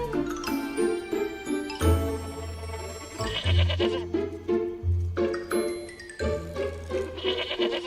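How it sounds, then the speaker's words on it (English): Sheep bleat again and again in short bursts, mixed with bright jingling and tinkling throughout. "Come here, Martin the sheep."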